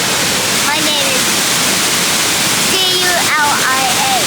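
Steady roar of a waterfall on a trip in Japan, a dense continuous rush filling the scene close by, with voices talking over it.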